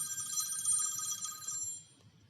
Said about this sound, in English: I'm sorry, that's just my alarm clock.